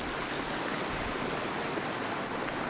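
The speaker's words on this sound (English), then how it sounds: "Little tacos next to a beautiful creek." A flowing mountain creek in the Eastern Sierra rushes in a steady, dense wash of water noise, continuous and close, with no voices.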